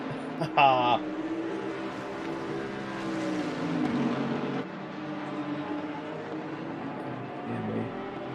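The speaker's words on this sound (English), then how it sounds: "I sometimes like to stop talking and just listen to the sounds of these cars." Race car engines in Assetto Corsa Competizione at the Nürburgring whine and rev through gear changes, rising and falling in pitch across the stretch at moderate level, with commentators talking over part of it.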